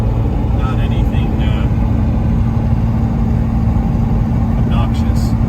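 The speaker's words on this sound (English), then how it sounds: "Right now we're cruising down the freeway about 70 miles an hour." A 1996 Chevrolet K2500 Suburban with a Cummins 12-valve diesel cruises on the freeway at about 70 mph, a steady low engine drone and road roar heard from inside the cab, continuous and loud.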